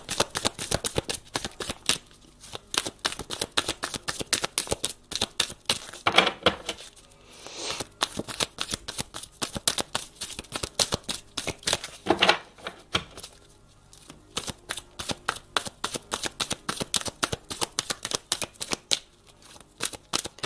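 Cards are shuffled and drawn for a reading, rapid crisp riffling bursts repeating in a steady run over about twenty seconds with a couple of brief pauses, close and fairly loud, no voice.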